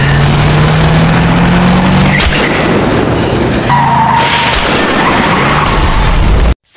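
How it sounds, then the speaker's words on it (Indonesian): Car skidding in a dramatic escape scene, a long tire screech running over a loud, dense vehicle and impact rumble that cuts off abruptly at the end. "Saat ia mencoba kabur menggunakan mobil, Sano berhasil mencegahnya"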